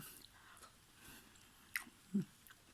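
Someone bites into and chews fresh lychee fruit at close range, quiet wet squishes and a couple of brief, distinct bite sounds over soft background noise.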